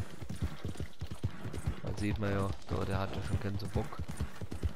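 Horse hooves clip-clopping at a slow walk in the Red Dead Redemption 2 game, a steady rhythmic plod under someone talking in German over the top.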